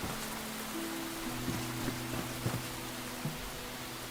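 Steady rain in the survival video game Enshrouded, a soft continuous patter heard up close with a few brief clicks and faint tonal game sounds layered over it, no talking.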